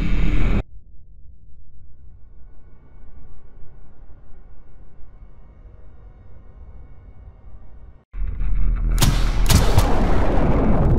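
Gunshots fire at a monster in the video game The World After. After a long quiet stretch with a low hum, a loud, sharp burst of several shots cracks out near the end.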